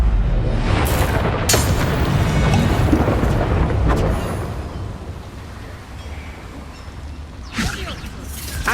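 A Confringo spell explosion from the Hogwarts Legacy video game booms and rumbles with a sustained fiery roar, sharp crackling bursts on top and mechanical clanks through the scene.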